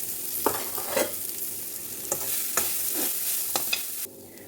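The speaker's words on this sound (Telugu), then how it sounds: "స్టవ్ ఆఫ్ చేసిన వెంటనే కొబ్బరి తురుము వేసుకొని కలుపుకోవాలి." Grated coconut is stirred into a hot tempering of green chillies and asafoetida just after the stove is switched off, giving a soft sizzle with several distinct scraping stirs close up before it quiets abruptly near the end.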